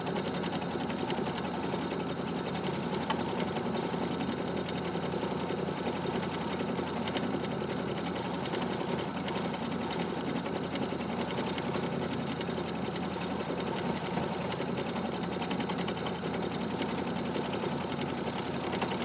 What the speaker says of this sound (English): the only thing I need to do is put my foot on the pedal and start sewing.